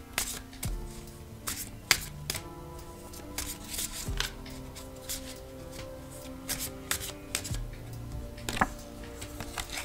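A box of tarot cards is shaken close by, giving a steady run of sharp rattling clacks and scraping shuffles with loud hits scattered throughout.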